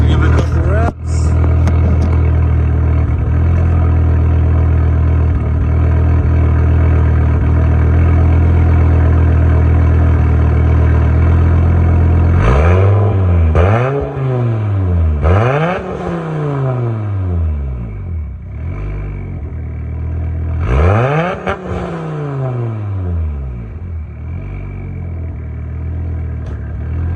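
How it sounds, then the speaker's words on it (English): An Audi Urs6 with 230,000 miles idles loudly with a steady low rumble, then is revved several times, each blip rising sharply and falling back, in two spaced groups. "I'll let this get warmed up and give you a couple revs."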